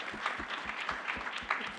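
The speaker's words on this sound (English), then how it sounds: "Round of applause for Cole Shots." An audience at a CannaGather event in New York breaks into a short burst of applause, a dense patter of many hands clapping at moderate volume with some voices mixed in.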